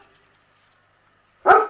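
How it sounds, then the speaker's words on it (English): A single sharp dog bark, close and fairly loud, near the end after a quiet stretch with a faint background hum. "Shush, doggy!"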